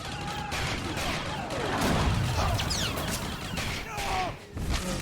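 Blaster fire erupts in Star Wars: The Old Republic, a dense, loud volley of zapping shots with whistling sweeps and crashes layered over a steady combat din.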